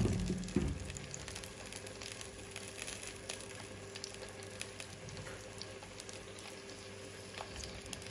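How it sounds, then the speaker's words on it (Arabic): Steady, dense sizzling of onions frying in vegetable oil in a pot, with crackling pops throughout and a brief clatter at the start. "بدي أقلل بصل"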